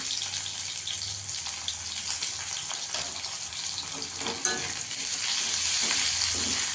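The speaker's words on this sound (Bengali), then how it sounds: "ভালো করে একটু ভেজে নেব" Slit green chillies, with tomato nearby, sizzle and fry in a hot pan, giving a steady, loud hiss with light stirring throughout.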